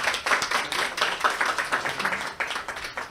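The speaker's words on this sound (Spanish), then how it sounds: "Le damos un aplauso, por favor." Audience applause at an academic psychoanalysis symposium, a smallish group clapping with distinct, uneven hand claps that hold steady for a few seconds with slight rises and dips.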